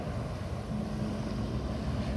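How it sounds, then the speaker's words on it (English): A Yamaha High Output 1.8 liter personal watercraft engine pushed hard, giving a loud, steady, close roar with a low drone, mixed with rushing water and wind noise throughout. "She is really gonna push this Yamaha High Output to its absolute edge."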